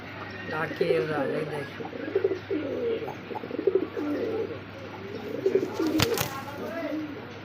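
Pigeons coo repeatedly in rolling, throaty phrases at close range at a pigeon market, with a sharp knock or flap partway through and crowd murmur in the background.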